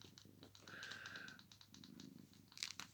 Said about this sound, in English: Cat's getting a bit playful.